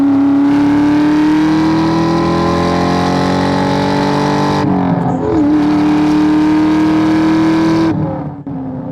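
A 2001 Ford SVT Cobra engine revs steadily after a downshift, its loud, even drone holding, dipping briefly with a gear change, then fading out near the end.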